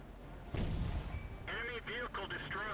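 A single heavy tank cannon shot booms out in World of Tanks, fired by the player's E-50 Tier 9 medium tank at an enemy E-75. A rumble follows, then warbling game tones and clanks sound under the battle noise.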